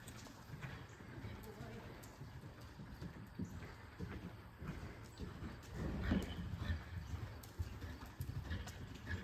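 A horse canters in a riding lesson with rhythmic hoofbeats on footing that grow louder as it passes close, and a voice talks over the footfalls.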